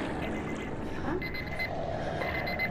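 An alarm beeps in repeated high, thin pulses over steady background game sound, moderately loud in the room.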